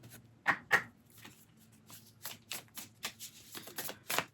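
A Moonology oracle deck is shuffled by hand in quick, soft riffles and taps, with an uneven rhythm of close, papery bursts and little else around them.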